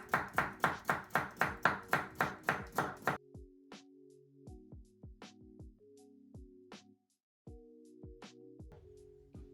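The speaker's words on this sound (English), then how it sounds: "All I'm going to do with this, in half, and then slice into half moons." A large carrot is sliced into half moons on a cutting board: a fast run of about a dozen evenly spaced knife chops, then slower scattered taps against a faint background of music.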